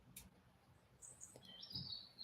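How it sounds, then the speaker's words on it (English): Faint, high bird chirps and tweets come and go over a soft, steady background hush, distant and gentle rather than close. "Notice the beautiful bird song."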